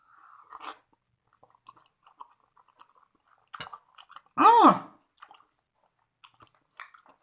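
Someone bites into and chews Putu Mayang Betawi cake up close, with a few soft crunches and one louder squelchy burst amid quiet mouth noises.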